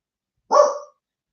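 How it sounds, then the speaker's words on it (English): A dog gives a single short, sharp, loud bark close by in a quiet house, then silence. "the dog's barking because of his lift"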